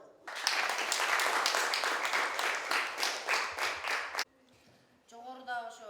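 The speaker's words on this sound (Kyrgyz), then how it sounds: "кол чаап коелу" Classroom audience clapping for the second group of children, a dense burst of applause lasting about four seconds that stops abruptly, followed by a brief spoken voice.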